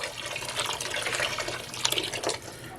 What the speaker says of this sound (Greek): καυτό νερό